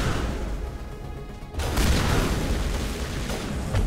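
Shotgun blasts ring out in the Mass Effect 1 video game, a booming burst hitting partway through over a steady background of combat noise.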